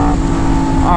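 A Yamaha R1M sport motorcycle engine holds a steady, buzzing drone with a strong tonal hum, staying loud and continuous throughout, with a slight rise in pitch near the end.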